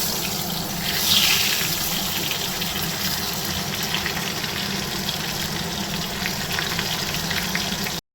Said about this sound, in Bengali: তেলটা নিয়ে পেঁয়াজটা ভেজে নিচ্ছি।